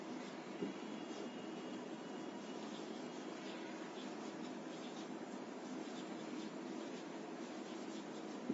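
Pen or chalk writing out two sentences by hand during an English grammar lesson, a steady faint scratching that runs for several seconds with no talking.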